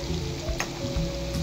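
French fries frying in a pot of hot oil give a steady, close, broadband sizzle with a brief utensil clatter partway through; no voices.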